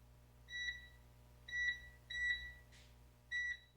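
Oven control panel beeping while being set to preheat to 325, four short electronic tones with a clear pitch and a brief rustle between them, heard alone in a quiet kitchen.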